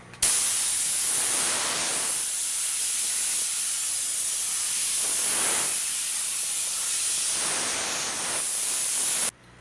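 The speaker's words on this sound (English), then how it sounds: "we have the luxury of the compressor." A compressed air gun blows a steady, loud hiss across a fiberglass surfboard to clear dust, running continuously at close range with slight surges, then cutting off abruptly.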